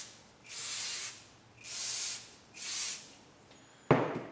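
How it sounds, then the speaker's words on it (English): WD-40 is sprayed onto a motorcycle steering stem during a Honda XLR250R Baja triple-tree rebuild: three short hissing bursts at even intervals, close and soft, ending with a sharp click or knock. "I'm just gonna gently spray some WD-40 on my steering stem"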